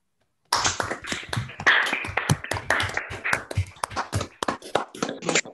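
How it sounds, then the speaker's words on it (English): Participants in an online conference clap together over unmuted microphones, a dense patter of many separate close hand claps starting after a brief silence and continuing steadily, with no talk. "I propose that we unmute our microphones now and for a round of applause."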